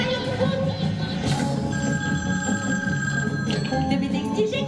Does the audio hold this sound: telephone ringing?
yes